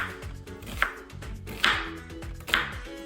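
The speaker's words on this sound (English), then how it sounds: "Now, I'm going to slice my onions, and we're going to be using a medium-sized Vidalia onion." Knife slicing through a medium-sized Vidalia onion on a board, three crisp, separate cuts spaced about a second apart, close and fairly quiet, with no one talking.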